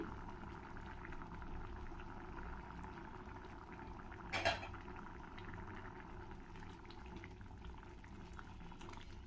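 Poha bisibelebath bubbles in a pot with a soft, steady boil heard close up, broken briefly by a single clatter, with no talking.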